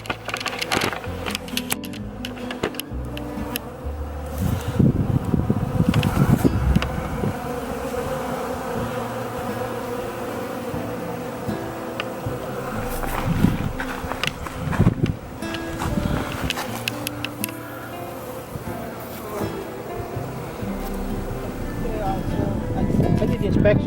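Honeybees buzz around their hives on cleansing flights at a late-November apiary, a steady, busy drone with individual bees zipping close past, while a person talks over it.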